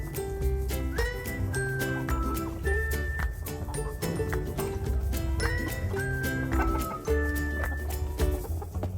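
Chickens cluck and chatter steadily while being fed, a busy, close flock with overlapping calls and sharp pecking clicks throughout.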